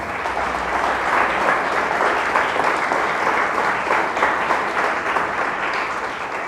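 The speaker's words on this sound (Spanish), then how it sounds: "Dele fuerte el aplauso a nuestro Dios." A church congregation claps together in sustained, dense applause that stays steady and close.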